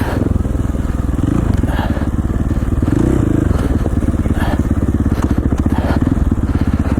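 A KTM 450XCF four-stroke dirt bike climbs a rough, gnarly hill in Idaho, its engine loud and close with a continuous throbbing roar and clattering over the terrain.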